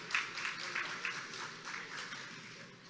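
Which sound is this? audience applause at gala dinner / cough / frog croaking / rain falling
audience applause at gala dinner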